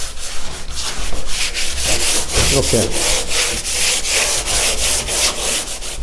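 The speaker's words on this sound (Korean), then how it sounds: "요런 사포를 가지고 한 번씩 문질러 주면 돼요" Sandpaper rubs by hand across a puttied interior apartment door being prepared for painting, making loud, close, rhythmic back-and-forth scratchy strokes, with a single short spoken word in the middle.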